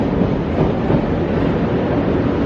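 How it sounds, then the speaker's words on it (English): Train running on the rails beneath a station near a large purpose-built store, heard as a steady, loud rumbling roar that fills the whole stretch without any break. "Underneath you can hear the rail."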